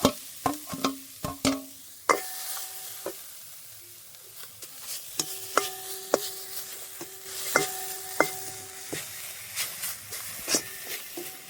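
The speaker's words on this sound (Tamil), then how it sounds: "தேங்காயை நான் நல்ல வடிவாக வறுத்தெடுக்க போகிறேன்." Grated coconut is dry-roasted and stirred in a pan for aval laddu, with sharp metallic scrapes and taps of a spoon against the pan in irregular bursts over a faint sizzling hiss, close by, with no talking.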